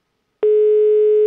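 Steady telephone busy signal tone starting abruptly after a call is hung up, a single continuous loud beep heard alone.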